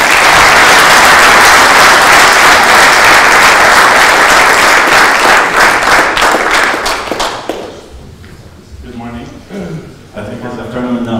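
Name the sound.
audience applause for entrepreneurs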